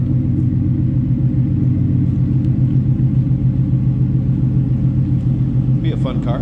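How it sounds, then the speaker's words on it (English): A 2009 Dodge Challenger SRT8 gives a deep, steady exhaust rumble that drones low and continuous throughout, with a brief higher-pitched chirp near the end. "There is a deep exhaust note. Definitely a little rumble coming out of this one."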